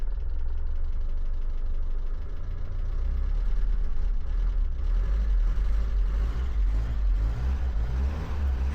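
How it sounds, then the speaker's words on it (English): A 1980 Mitsubishi L200 with a 4G32 engine and carburettor problems runs with a rough, uneven low rumble, then revs up unsteadily in the second half, close and loud. "Revving."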